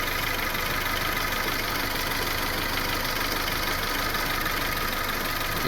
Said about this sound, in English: You can hear it surging every now and again.